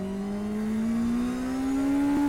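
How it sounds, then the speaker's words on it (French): A Honda motorcycle's inline four-cylinder engine with E-Clutch revs hard, a loud steady howl whose pitch climbs slowly and then drops off at the end, with no voices. "quand on lui tape dans les tours, par contre, il y a un petit hurlement assez rigolo"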